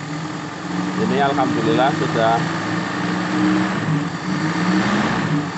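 A Ferosa motorcycle engine with a carburetor runs at a steady idle after carburetor adjustment, a close, continuous hum under someone speaking briefly.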